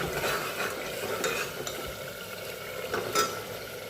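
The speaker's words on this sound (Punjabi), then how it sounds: "ਸਾਡਾ ਸਾਰਾ ਮਸਾਲਾ ਹੋ ਗਿਆ ਤਿਆਰ ਤੇ ਦਿੱਤਾ ਇਹਦੇ ਵਿੱਚ ਆਲੂ" Potatoes sizzling in a pan of masala for rajma, stirred with a utensil, giving a steady frying hiss with occasional scrapes and clinks close by.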